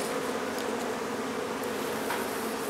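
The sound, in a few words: honey bees buzzing during hive removal from a barn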